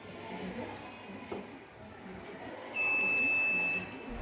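A high, steady electronic beep from a fire alarm buzzer on a breadboard project with an IR sensor sounds once for about a second over a quiet background hiss.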